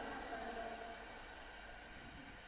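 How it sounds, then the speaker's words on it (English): London Underground train in Train Sim World 5, a dense, steady rushing rumble at close range that fades slightly toward the end, with no talk over it. "There's another London Underground train that we're catching up with"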